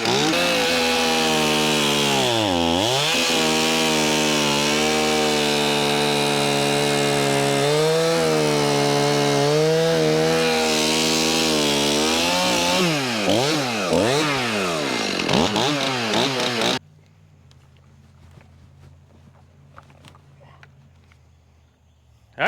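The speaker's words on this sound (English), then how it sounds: "I am the king of chainsaw cranking." A chainsaw roars loudly and close by for about seventeen seconds, its engine pitch rising and falling as it revs, then cuts out abruptly to near silence. No one speaks.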